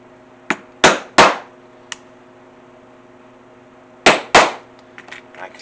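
Close, sharp hammer strikes on a punch drive rivet holes into leather strips: three quick blows, a light tap, then two more strikes, with a faint steady hum underneath.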